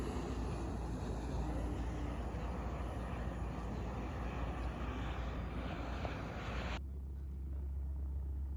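An airplane at an airshow roars steadily overhead, a loud broad engine rush that holds constant and then cuts off abruptly, leaving a low rumble.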